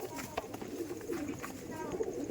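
A Rampuri Bajra pigeon coos softly in a series of short, repeated low notes, faint and close, with light background noise.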